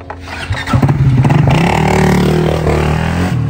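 A motorcycle engine idles and revs up close by, a steady low rumble with rising throttle bursts and some clattering.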